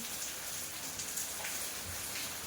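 Steady rain falls with a soft, even hiss of drops, continuous and moderately close, with no voices.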